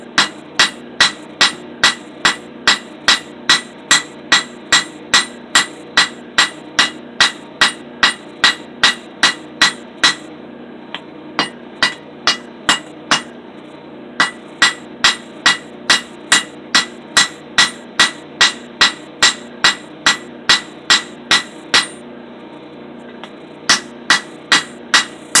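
Heavy hammer blows on a steel cable Damascus billet being forged flat, a long run of loud, sharp metallic strikes in a fast steady rhythm with a few brief pauses, close and alone.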